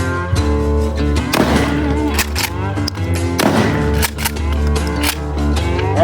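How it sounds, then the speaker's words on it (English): A 12 gauge shotgun fires target loads into drywall, giving a few sharp, loud blasts spaced across the clip over a steady low background hum. "let's go into the shotgun. Got 12 gauge target loads right here"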